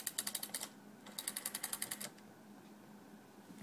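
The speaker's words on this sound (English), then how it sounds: "I'll let you hear the dial." The rotary dial of a 1939 Western Electric 302 telephone with an F1 handset returns, giving two quick bursts of evenly spaced sharp clicks, each a rapid rattling run, close and fairly quiet with a short pause between them.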